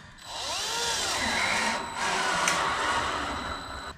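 A power drill drives screws into a wooden stud in a garage frame. Two sustained whirring, grinding runs are heard close up, separated by a short pause.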